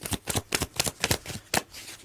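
Evolution of the Soul oracle cards by Marik X are shuffled by hand, giving a quick run of close, crisp riffling bursts in an uneven rhythm over about two seconds, with no talking.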